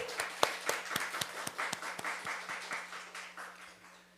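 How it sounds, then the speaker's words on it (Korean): A church congregation at a Sunday service claps together in a steady, regular beat over a low constant hum, the sharp claps gradually softening toward the end. "예, 수고한 여러분들과 또 이 일을 행하신 하나님께 우리 박수로 감사드리겠습니다."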